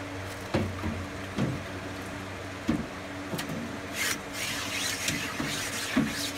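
A low grinding, rasping drone with irregular scraping bursts and a faint mechanical whir, as a drill-driven hone works inside a Yamaha RD350 or RD400 motorcycle cylinder bore.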